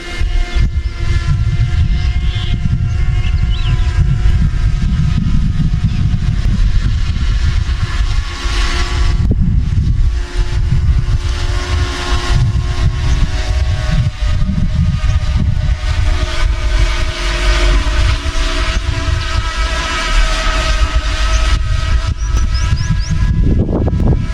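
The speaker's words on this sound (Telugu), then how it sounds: "ఒకసారి మనం ఇప్పుడు డ్రోన్ని లెఫ్ట్ సైడ్ కంట్రోలర్స్ యూజ్ చేసి ఒకసారి సరౌండింగ్ అంటే ఒక రౌండ్ షాట్ తీయడానికి ట్రై చేద్దాం" A DJI Mavic Mini drone circles overhead on a round shot, its steady whining propeller hum running loud and continuous under gusty wind noise.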